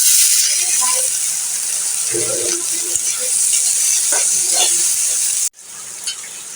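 Garlic and turmeric frying in a pan, giving a loud continuous sizzle with stirring knocks and a brief voice partway through, ending in a sudden drop to a quieter hiss.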